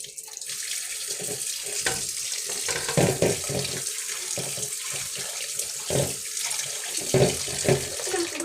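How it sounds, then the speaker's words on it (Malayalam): Water runs steadily from a tap, splashing into a sink with a continuous hiss and occasional knocks, close by, no voices. "നമുക്കിനി പൈപ്പ് തുറക്കാം"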